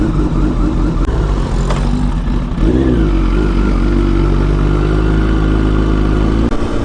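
A Kawasaki ZX10R sportbike engine runs loud and close, a steady, heavy rumble with a slight shift in pitch partway through.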